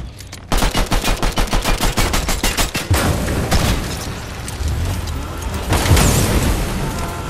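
Fortnite video game gunfire: a rapid automatic burst of evenly spaced shots opens, followed by heavier booming impacts and scattered shots, loud and close with no talk over it.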